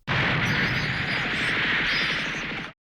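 Psycho Frame effect from the Japanese audio of the anime film Char's Counterattack: a continuous rushing, crackling roar with a harsh, blast-like texture, loud and even for nearly three seconds before stopping sharply, with no talking.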